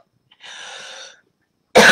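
A soft hoarse breathy exhale followed by a sharp, loud cough near the end, close and alone.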